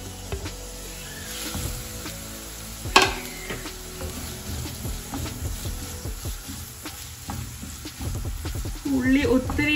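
Sliced onions fry in hot oil in a pan, giving a crackling sizzle with stirring scrapes and a sharp clatter early on, heard up close without speech.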